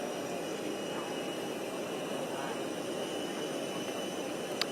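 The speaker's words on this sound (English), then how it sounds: "now the airplane warming up" Airplane engines warming up before departure from Phnom Penh International Airport, a steady broadband jet roar held at an even level throughout, somewhat distant, with no talk.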